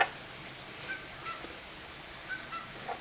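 Geese honking in a backyard, several short honks scattered over a few seconds, moderately distant against steady outdoor background noise.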